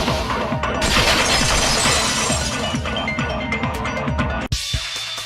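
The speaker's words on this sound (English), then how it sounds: "If it wasn't the window, then what broke to make that sound? A vase." A vase shatters in the Danganronpa 2 video game, giving a loud, sustained crash of breaking glassy fragments that cuts off abruptly near the end, followed by a brief quieter tail.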